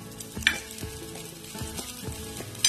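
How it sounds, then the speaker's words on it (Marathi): A medium chopped onion dropped into hot oil on a tawa, crackling in a continuous close sizzle broken by a few sharp stirring scrapes, with no talk. "या तेलामध्ये मी एक मिडियम साईजचा एक कांदा चिरून घेतलेला आहे तो टाकते"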